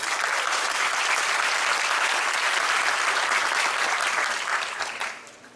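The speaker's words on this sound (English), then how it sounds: "Please give him a very good round of applause." A seminar audience bursts into steady, dense applause for a guest professor, loud and sustained throughout before thinning and fading near the end.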